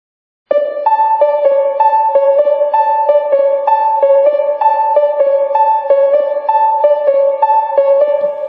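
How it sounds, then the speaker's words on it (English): Ambient synth plucks with reverb, from an FL Studio remake of a song, play a steady, evenly spaced repeating melodic pattern, clear and fairly loud, with bright ringing harmonics and no voices. "So this pluck sounds like this."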